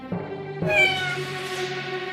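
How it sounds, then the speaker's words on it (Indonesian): A single drawn-out cat meow, clear and close, rising then trailing off in a long wavering tone. "mereka mendengar kucing mengeong"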